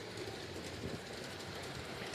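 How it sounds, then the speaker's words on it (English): A train rolls past in New Jersey, a steady, fairly faint rumble and rattle of wheels on rails with no pauses and no voices. "And a nice train."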